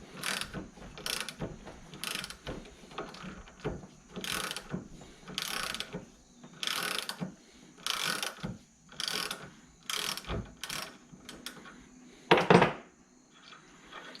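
A ratchet wrench loosens a 14 mm bolt on a stuck brake caliper glide pin, giving bursts of rapid clicking strokes with short pauses between them, close up, ending in a brief metallic clank.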